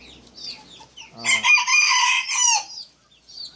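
Backyard chickens cluck softly, then a rooster lets out one loud, close crow lasting over a second before the clucking resumes.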